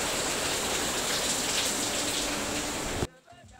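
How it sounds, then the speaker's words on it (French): Torrential rain pours outside at a Cameroon construction site, a dense, loud, steady hiss and patter that cuts off abruptly near the end. "le staffeur est vraiment là malgré la pluie torrentielle qu'il fait dehors"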